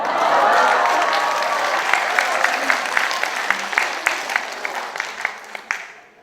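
A concert audience at a talk concert bursts into loud, dense applause that gradually thins into scattered individual claps before fading out.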